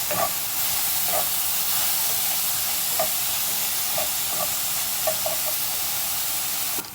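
A big onion frying in oil with chillies and curry leaves for a beans masala curry, a steady dense sizzle and hiss with occasional soft stirring taps, close and continuous, no voice.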